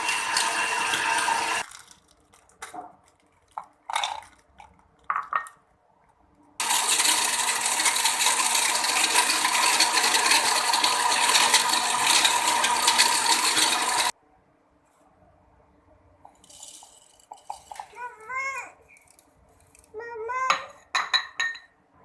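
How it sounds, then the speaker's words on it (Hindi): An electric grinder grinds rock sugar, fennel and almonds. Loud, steady whirring fills about eight seconds, framed by clattering and rattling as the ingredients and jar are handled. "सबसे पहले हम मिश्री को ग्राइंड करें।"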